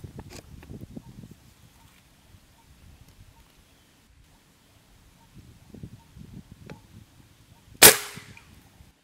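A single sharp shot from a PCP Big Game ST New Series Long air rifle cracks out near the end, preceded by quiet rustling and handling noises with no talk.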